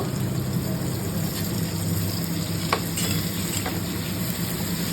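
Capsicum frying and being stirred in a pan, a steady broadband sizzle with a low background hum and a few faint scraping clicks, continuous and fairly close, no voices.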